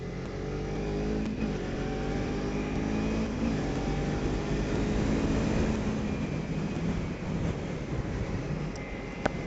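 A homemade scrambler motorcycle engine runs and revs nearby, a continuous rough mechanical drone that rises and swells toward the middle before easing off, with no talking.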